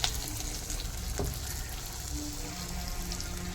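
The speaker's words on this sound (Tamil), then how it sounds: "தேவையான அளவு வெங்காயம் போட்டு பொரிய விடுவோம்" Onions fry in oil in a pan after curry leaves are tempered, producing a dense, continuous, close sizzle with faint crackles throughout and no voices.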